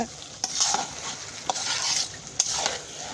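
A spice paste being stirred as it fries in oil only, with a steady hiss and sizzle and a few louder scraping strokes of the spoon against the pan.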